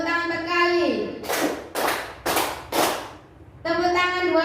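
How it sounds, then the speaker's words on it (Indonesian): A group claps three times in unison during a positive school culture activity, three sharp loud claps close together, with speaking voices before and after. "Tepuk tangan 3 kali."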